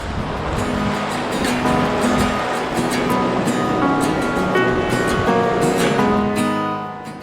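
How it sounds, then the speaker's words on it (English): Class 2 Man Creek Rapid on Idaho's Salmon River, a steady loud rush of churning whitewater filling the whole stretch with broadband roar, faint tonal sounds scattered through and no talk. "First rapid of the day, Man Creek Rapid,"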